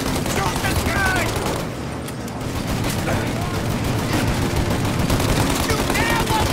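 Dense, continuous gunfire from a shootout in Mafia Definitive Edition, rapid automatic bursts with other shots layered in, loud and close, with shouting voices mixed into the chaos.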